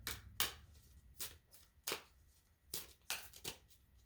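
Oracle cards, sticking together, are shuffled in several quick, crisp riffling bursts, each a short papery flutter separated by brief pauses.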